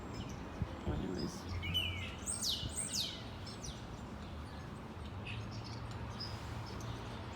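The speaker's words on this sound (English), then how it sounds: "The starlings are everywhere." Starlings chirp and whistle in a cluster of quick, sliding calls that are brief and fairly faint over a steady outdoor background hiss, then grow sparser toward the end.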